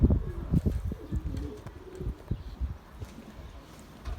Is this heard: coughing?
no